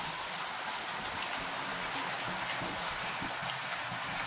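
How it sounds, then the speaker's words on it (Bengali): Steady rain pours down in a dark, stormy setting beside palm leaves, a dense, even hiss of drops hitting surfaces that continues without a break, close and alone with no voices. "মা দেখো, বৃষ্টি শুরু হয়ে গেল।"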